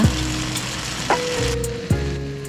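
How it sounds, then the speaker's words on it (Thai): Pad thai being stir-fried with its sauce in a pan, a steady hot sizzle throughout broken by a few sharp scrapes and clanks of the spatula against the pan. "แล้วก็ตามด้วยน้ำซอสผัดไทยที่เราทำไว้เมื่อกี้นะคะ แล้วก็ผัดต่ออีกนิดหน่อยค่ะ"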